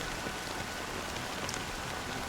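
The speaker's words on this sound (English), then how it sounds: "it's still raining." Steady, even rain pours down in the game Honkai Star Rail, a dense continuous hiss with scattered droplet taps, moderately loud and with no voices.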